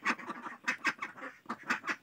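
Domestic ducks quack repeatedly in a busy, overlapping chorus of short nasal calls, moderately close and steady throughout, with no talking.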